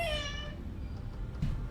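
A cat meows at the start in the farming video game Lightyear Frontier, one drawn-out harmonic call that fades over low ambient game noise, followed by a couple of soft thumps.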